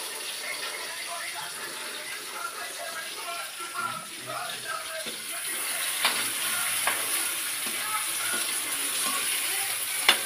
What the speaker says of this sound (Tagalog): luto-lutoon mo ang kamatis.